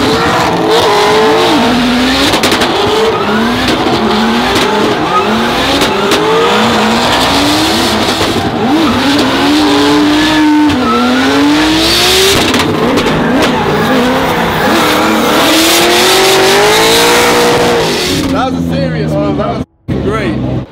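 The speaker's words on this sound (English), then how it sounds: "It's the most aggressive anti-lag I've ever heard." A turbocharged sand rail race car roars loud and close, its aggressive anti-lag popping and crackling through rapid revs and gear changes, with voices underneath.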